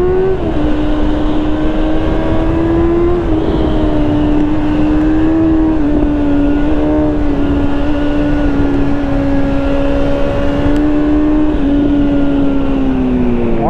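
A 2019 Honda CBR650R motorcycle rated at 95 hp is held at full throttle. The engine gives a loud, steady, high-pitched wail heard up close, with a brief dip in pitch and otherwise nearly constant revs.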